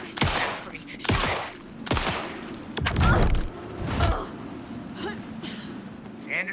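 Gunfire in Alan Wake 2: five or six loud, sharp shots ring out at uneven intervals over a steady background rumble, close and punchy with short decaying tails.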